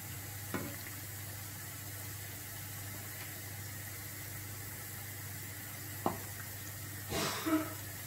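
Semolina balls (sujir bora) fry in oil while being stirred, giving a soft, steady sizzle broken by a few sharp knocks of the spoon against the pan.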